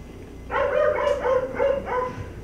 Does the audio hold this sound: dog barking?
yes